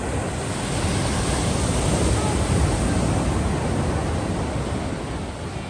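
Ocean waves crash and surge on the North Shore of Hawaii, a loud, dense roar of surf mixed with gusting wind against the microphone that holds steady throughout.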